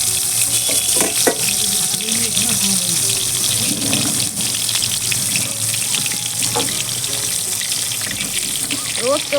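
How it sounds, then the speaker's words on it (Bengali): Eggplant slices frying in oil in a hot kadai, a continuous close sizzle mixed with watery running sounds and clatter, with a voice talking briefly over it. "এবার বেগুনগুলো ভেজে নেবো। তেল দিয়ে দিলাম,"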